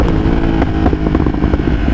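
A 193 hp motorcycle burbles while cruising, a loud, close, continuous engine rumble with an uneven throb and no speech.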